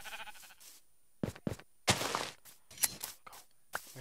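A sheep in a farming video game bleats in several short separate calls with brief gaps, mixed with a few soft thuds and footstep-like knocks, fairly close and alone.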